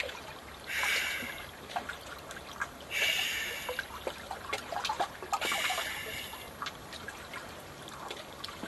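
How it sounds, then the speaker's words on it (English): Soft river water sloshes and laps against the sides of a moving boat in a few gentle waves, with light trickling between them, close by and fairly quiet. "Soft water brushing against the sides of the boat."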